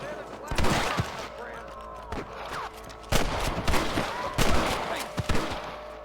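Gunfights in the Western video game Red Dead Redemption, with repeated sharp gunshots bursting in clusters amid a continuous background of game sound, loud and close, with brief quieter gaps between the volleys.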